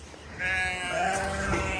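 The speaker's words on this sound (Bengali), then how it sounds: "এই যে এই পাশে আছে বড় বড় ছাগল" Goats in a desert enclosure give a single drawn-out, wavering bleat, loud and close, lasting over a second with no voices.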